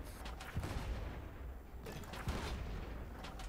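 Ship cannons fire during a naval battle in the pirate game Blazing Sails, a few dull booming blasts with rumbling tails, distant and fairly quiet.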